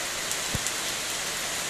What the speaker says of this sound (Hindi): यहाँ बरसात हो रहा है